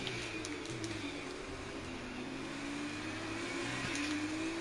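Simulated F2 race car engine on the Singapore street circuit, a steady high revving drone with a brief dip and climb as it shifts up into sixth gear, sounding continuous and fairly close, with no talk over it.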